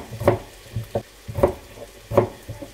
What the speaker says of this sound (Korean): 틈틈이 양파를 저어주시고